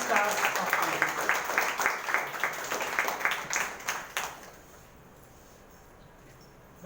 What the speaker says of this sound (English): Please give a huge round of applause for Rising Stars of the Month.